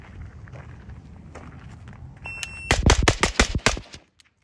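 Rapid string of about six suppressed gunshots from a Radical Defense MK1 PDW during a timed drill, loud and close, following quieter movement noise.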